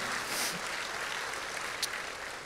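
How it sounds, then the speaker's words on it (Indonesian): A church congregation applauding together during a thanksgiving sermon, a steady dense wash of clapping from a large crowd, fairly distant and even throughout. "Berikan tepuk tangan kita untuk Tuhan kita."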